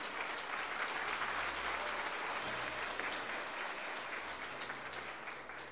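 A church congregation at a faith-healing service claps steadily and loudly for Jesus, a dense, continuous wash of applause that holds for several seconds before easing slightly toward the end.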